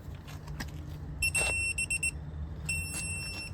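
A torque limiting bar beeps as it reaches 80 foot-pounds on a CV axle nut, giving a few short, high electronic beeps in quick succession followed by a longer beep, over quiet background noise.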